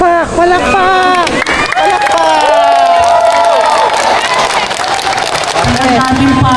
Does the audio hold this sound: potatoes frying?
no